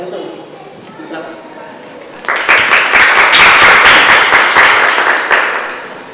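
Applause from a conference audience at a humanities congress, starting after about two seconds of quiet room noise and continuing as dense, steady clapping that swells and slowly tapers toward the end.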